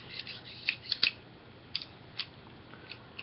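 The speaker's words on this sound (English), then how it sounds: "I'm playing with this pair of scissors, and I feel like I should stop" Several crisp scissor snips, close and isolated, coming in short irregular bursts with quiet pauses between them.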